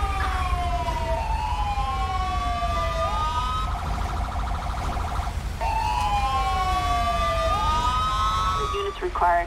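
An ambulance siren from the GTA 5 video game wails in rising and falling sweeps, switching midway to a rapid warbling yelp before returning to the wail, loud and continuous over a low rumbling background.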